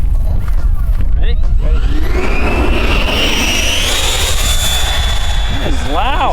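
A Flite Test Zephyr electric model plane, a hotliner, is tossed and climbs away with a loud, rising motor whine that sweeps upward and holds steady. People talk faintly in the background.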